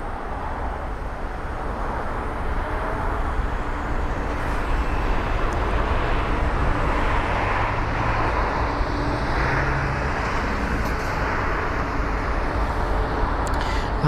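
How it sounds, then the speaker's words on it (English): A United Boeing 777 jet departs Heathrow bound for San Francisco, its engines a steady, broad roar that holds loud and even throughout with no voices over it. "And off to San Francisco goes that United jet"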